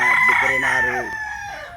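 A game fowl rooster at a game farm in Tanauan City, Batangas, lets out one loud, close crow that rises and then trails off over about two seconds.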